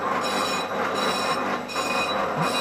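A lathe slowly turns a VW T4 brake disc, the cutting tool giving a continuous metallic whine and scraping drone with ringing tones and a faint rhythmic pulse from the big disc's slow rotation.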